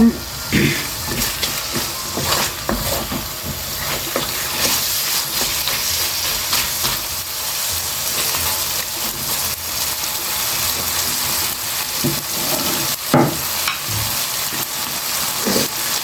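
Prawns fry in a hot pan for a Mee Goreng dish, giving a steady close sizzle with scattered crackles and stirring clatter throughout.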